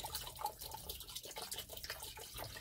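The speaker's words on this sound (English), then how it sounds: "I'm going to fill up this bin here with isopropanol alcohol, just to make sure I can give it a good little wash" Isopropyl alcohol poured into a bin for washing a resin print, a steady splashing liquid stream running continuously and fairly close, with no talking.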